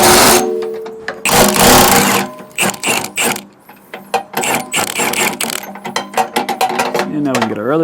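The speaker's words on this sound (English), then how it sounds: "I'm just getting each one of these nuts loose." A ratchet wrench with a 15/16 socket loosens nuts on a Gen-Y Hitch Nomad 5th wheel to gooseneck pin box, giving loud, close bursts of rapid clicking with short pauses between turns.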